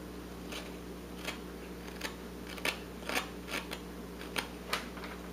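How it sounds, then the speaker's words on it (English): A knife whittles wood for a miniature beaver carving, giving a series of faint, short, crisp cutting scrapes at irregular intervals over a steady low background hum, close by, with no talk. "Let your knife do the cutting."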